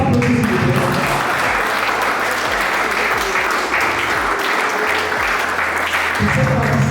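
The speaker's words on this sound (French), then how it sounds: "On va applaudir s'il vous plaît." Audience applause at an international women's conference, a loud, sustained burst of crowd clapping close by, with voices audible beneath and around it.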